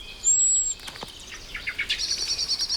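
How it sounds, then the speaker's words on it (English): A blackbird sounds its alarm call in woodland, a rapid run of sharp, repeated chinking notes building into a steady rhythmic series, close and fairly loud over a hissy outdoor background. "This blackbird has spotted our Genet and sounds the alarm."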